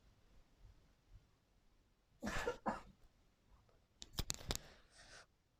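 A harsh burst of coughing, then after a short pause a second cluster of sharp coughs, close and loud over a quiet room.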